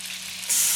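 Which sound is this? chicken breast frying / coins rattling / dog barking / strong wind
chicken breast frying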